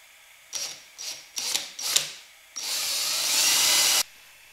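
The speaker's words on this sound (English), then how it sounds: "I want to make sure that I drill the right size hole" Four short drill bursts start and stop in quick succession, then a longer continuous whirring run of about a second and a half, close by.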